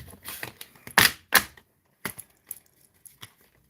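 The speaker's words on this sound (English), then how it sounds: "that's shuffling right next to the microphone is annoying" Tarot cards shuffled right beside a microphone, a few loud close riffling swishes and snaps followed by softer scattered card taps amid quiet gaps.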